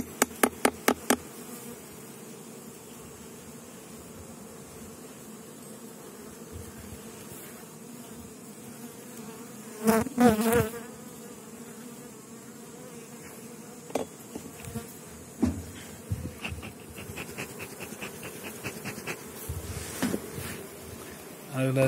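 Carniolan honey bees hum softly in the background while a person talks, with occasional clunks and knocks of wooden hive frames.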